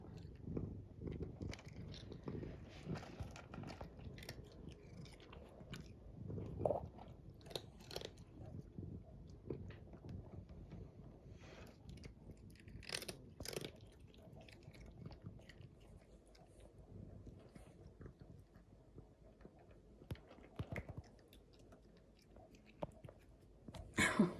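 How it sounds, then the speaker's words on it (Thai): An orange cat crunches and chews dry treats in faint, close, irregular bites, with a voice speaking at times over the quiet munching. "ฟังเสียง ฟังเสียง ฟังเสียงอืมกรอบกรอบกรอบกรอบ"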